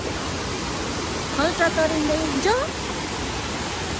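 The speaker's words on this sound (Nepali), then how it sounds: "खल्चा तरिँदै जानुपर्ने रहेछ। यहाँ टेक्यौँ पानी चाहिँ फ्रेस छ है।" A cold mountain stream in Lower Mustang rushes with a loud, steady hiss of churning water throughout, while brief voiced whoops or hums rise over it near the middle.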